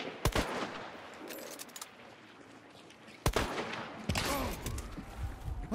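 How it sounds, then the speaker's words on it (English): Video game gunfire, with sharp bursts of automatic fire at the start, near the middle and toward the end, separated by quieter stretches of background game noise, fairly distant and low in level. "Are you getting shot at right now?"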